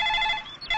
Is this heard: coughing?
no